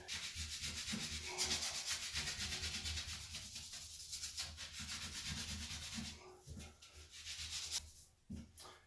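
Steady rubbing scrape of sandpaper worked back and forth over the edge of an old shower valve trim, continuous and close with brief pauses near the end.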